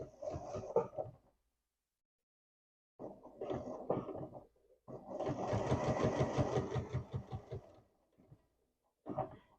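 A sewing machine stitches a dart on Vogue V9246 pants, with several close, rhythmic bursts of whirring stitches separated by quiet pauses, the longest run in the middle.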